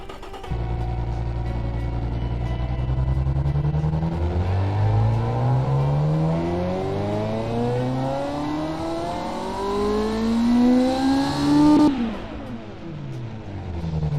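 Car engine in a racing video game revving up through several gears, each rising whine climbing in pitch before a shift, loud and close, thin and buzzy without exhaust resonance, ending in an abrupt cut.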